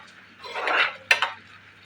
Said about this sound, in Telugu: ఇంకొక టీ గ్లాస్ వాటర్ పోసేసుకొని ఇలా బాగా కలుపుకోవాలి